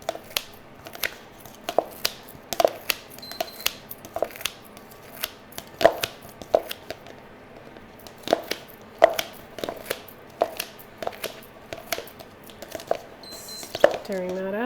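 Knife chopping food on a board, a steady run of sharp, close taps at an irregular, unhurried pace, with occasional talking.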